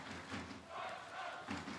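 A big noisy crowd roars and cheers at the canoe polo world championship final on a sunny day, a steady wash of voices with surges of louder shouting.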